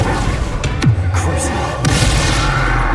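An Incendio fire spell is cast in Hogwarts Legacy, giving a sudden deep boom and burst followed by a rumbling whoosh, with a character's voice over it.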